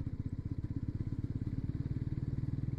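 A Bajaj Pulsar NS400Z motorcycle rides in fourth gear, its engine thrumming in a fast, even pulse that builds slightly, heard close and steady with no talk.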